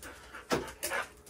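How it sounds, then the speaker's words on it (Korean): An excited dog whimpers and pants in short bursts, two louder high-pitched whines rising over breathy panting, close to the microphone, with no talk. "흥분도 급속히 치솟아오르죠? 낑낑댑니다."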